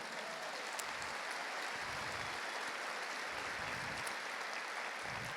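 Church congregation applauding during a Spanish-language sermon, a steady, dense wash of clapping throughout with no speech over it.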